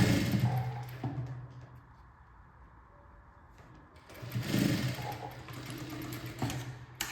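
An electric sewing machine stitches the sleeves of a baby frock, whirring in fast bursts that slow to a quieter lull midway before running hard again, close by, with no talking.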